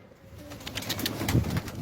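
A female Arabian dolapçı pigeon coos softly and wings flap briefly nearby, short and close, with no talking.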